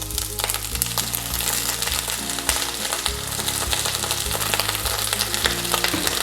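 Small onions, green chillies and mint fry in hot oil, giving a close, loud, constant sizzle and crackle with light stirring and no talk.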